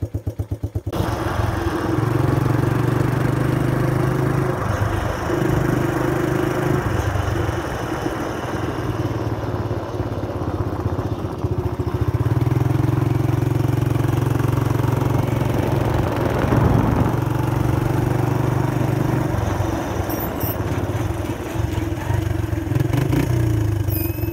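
A 1983 Suzuki LT125 ATV engine runs while being ridden, a loud, steady buzzing drone close by with small shifts in pitch as the throttle changes, and no talking over it.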